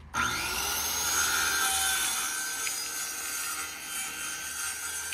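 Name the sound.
sawing through material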